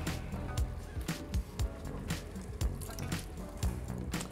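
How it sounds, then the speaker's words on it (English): Kidney beans tumbling wetly into a pressure cooker of chili, a run of soft squelching plops and drips close by, fairly quiet and irregular. "Now we're gonna add our kidney beans."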